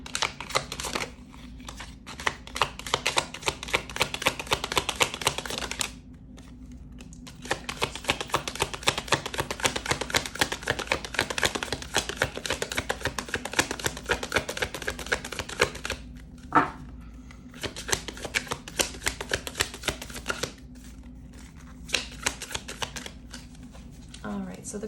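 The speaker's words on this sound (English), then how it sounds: "let me go ahead and get just a few more tarot cards out" Tarot cards handled, shuffled and drawn, giving a dense, continuous riffling and flicking texture for most of the stretch, broken by two short pauses, with a person talking over it.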